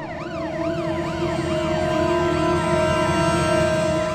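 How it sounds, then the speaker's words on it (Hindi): A police car siren wails in a continuous rising and falling pattern, loud and close, with a vehicle engine rumbling beneath it and no voices. "पुलिस की गाड़ी तो हमारे घर की तरफ ही जा रही है।"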